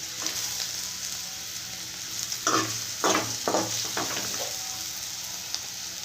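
Sliced radish (mullangi) sizzles steadily in a hot pan, with a few louder bursts of stirring scrapes in the middle. The sound is close and continuous, with no talking.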